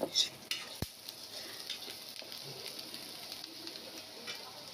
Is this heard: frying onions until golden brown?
yes